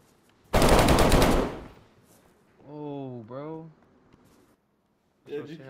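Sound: gunshots from the video game DayZ

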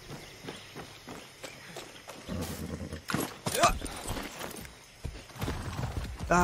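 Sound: horse hooves clip-clopping in video game

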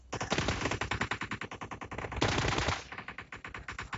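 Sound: gunfire shooting zombies in the video game PUBG Mobile

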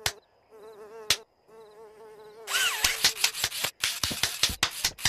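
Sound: mosquitoes buzzing in a cartoon

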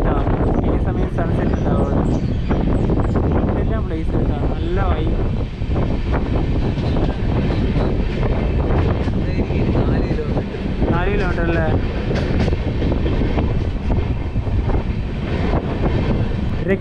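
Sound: Netravati Express train departing Ratnagiri railway station

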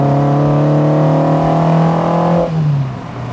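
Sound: Peugeot 205 car engine while driving

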